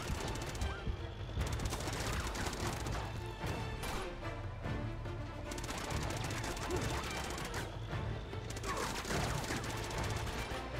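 Dense, sustained gunfire in Uncharted: Among Thieves, a battle with a tank, with bursts and crashes layered over a constant loud din of combat throughout, and no pauses.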